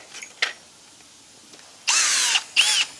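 A power drill with a 6mm bit bores holes into the metal guard of a Navara in two short, loud whirring bursts near the end, after a few faint taps and clicks.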